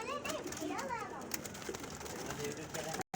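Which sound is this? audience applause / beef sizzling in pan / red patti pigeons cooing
red patti pigeons cooing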